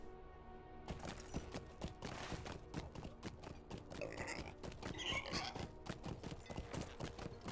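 Horse hooves clip-clop steadily in Lord of the Rings Online, a brisk, even run of hoofbeats going on throughout with no speech.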